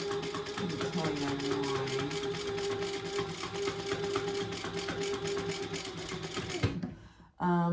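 A sewing machine stitches a crossbody bag in a steady, rapid rhythmic run for several seconds, fairly quiet and close, then stops with a brief clatter.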